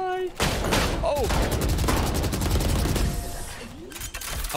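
Rapid gunfire bursts from the game Valorant fill the clip almost nonstop, loud and dense, with a short gap near the start and brief quieter moments later on.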